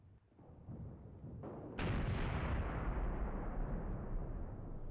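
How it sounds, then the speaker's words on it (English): A guided anti-tank missile streaks across an open field in the Graviteam Tactics war game, starting as a rising rush and then swelling at about two seconds into a loud, sustained roaring whoosh that carries on to the end without any speech. "ATGM flying across the field."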